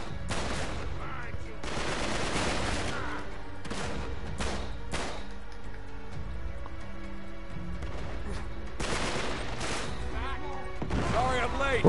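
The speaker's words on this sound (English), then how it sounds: "Sounds like they're shooting at Sully" Gunfire from several shooters, scattered bursts and volleys of shots at moderate distance, irregular and overlapping, with quiet stretches between clusters and voices talking in the background.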